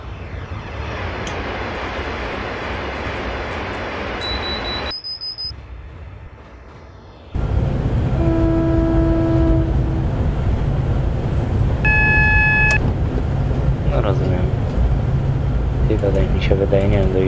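A Virgin Class 390 Pendolino in Train Simulator 2020 rumbles loudly and steadily with traction hum, briefly dropping quieter before the heavy running noise returns, while someone talks over it.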